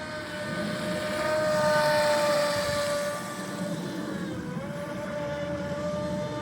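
A 25-inch stepped-hull RC boat runs on the water, its motor a continuous high whine that rises louder, then eases and shifts pitch as it moves off at moderate distance.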